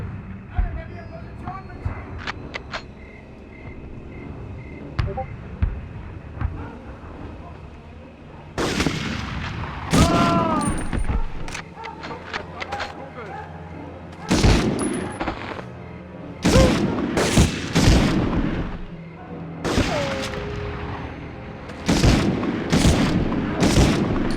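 Sharp gunshots and heavy booming blasts erupt in scattered bursts in the World War II shooter Medal of Honor, growing denser and louder in the second half, with a voice speaking at times amid the fire.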